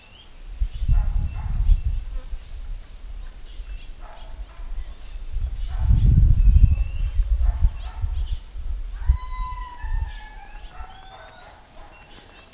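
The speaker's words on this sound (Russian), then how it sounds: "А вот вновь какие-то цикады застрекотали" Cicadas in the tropical mountains of the Philippines, a layered insect drone with buzzing pulses rising and falling over a low outdoor rumble and wind, with thin bird-like whistles in the later seconds.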